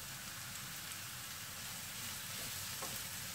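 Spring onions sauté in a hot pan for Schezwan fried rice, giving a steady, even sizzle and crackle throughout with faint stirring, fairly quiet and without speech.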